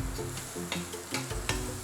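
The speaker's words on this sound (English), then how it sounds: "once your onion starts to caramelize nicely," Onions frying in a pan give a steady sizzle, broken by repeated scraping stirs at a quick, regular pace, close and fairly loud, with no talking.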